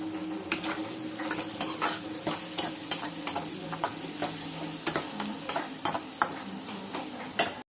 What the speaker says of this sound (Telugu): ఉల్లిపాయ ముక్కలు మంచిగా మగ్గుతాయండి.